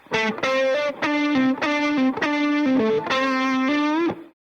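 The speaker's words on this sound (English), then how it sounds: "And the second tube screamer." Overdriven electric guitar through a Tube Screamer pedal playing a sustained, harmonically rich phrase of chords and notes, loud and alone, with brief gaps between strums.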